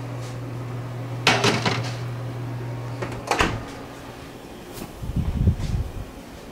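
A pan of shrimp fajitas going into a home oven set to broil: two solid clunks from the oven door and metal pan a couple of seconds apart, then a closer rattling scrape of the tray, with no talking.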